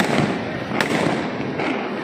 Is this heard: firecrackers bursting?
yes